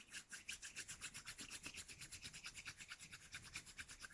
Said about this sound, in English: bring your palms together and rub your palms, creating warmth, creating energy